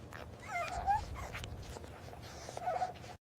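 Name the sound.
AI-generated dogs whimpering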